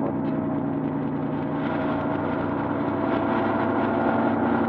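A loaded 42-tonne truck holding back on engine braking alone, with no additional retarder, gives a steady, loud, low droning roar that runs without a break.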